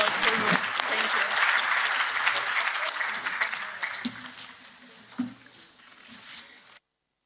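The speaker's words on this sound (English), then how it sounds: "please give them a round of applause" An audience at a women's political leaders summit applauds panel speakers, a dense wash of clapping that starts full and gradually thins and fades over several seconds before cutting to silence.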